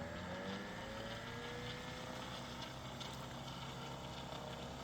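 KidWind GenX axial flux alternator spinning as a motor, a steady continuous whirring hum with a faint rising whine, even and unbroken throughout, heard close with no voices.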